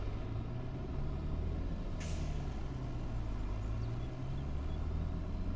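Truck air brakes in the farming video game Farming Simulator 22: a short sharp hiss of released air over a steady low engine drone, with no talk.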